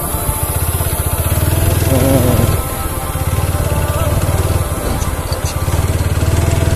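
A motorcycle engine drones steadily and loudly throughout a ride with a child as passenger, a close, even low hum with slight wind, while people talk over it.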